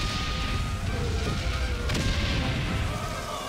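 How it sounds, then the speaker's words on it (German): Heavy World War I artillery fire in a video game, a dense continuous rumble of distant booms with a sharper blast partway through, steady and fairly loud throughout. "Und schwere Artillerie."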